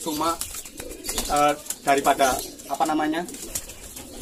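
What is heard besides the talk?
bird calling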